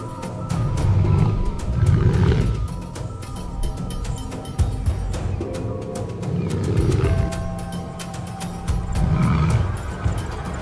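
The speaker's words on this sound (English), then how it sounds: "The air fills with sound, roars that shake the ground" Male lions clash with deep, rumbling roars and growls rising in several heavy surges, loud and close, over a constant low background rumble and with no talk.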